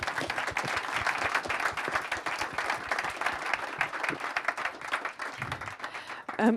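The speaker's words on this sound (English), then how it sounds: "can we please give a huge round of applause for our panel?" An audience at a COP26 panel event on gender equality in science applauds, a sustained burst of many hands clapping at moderate loudness that tapers near the end.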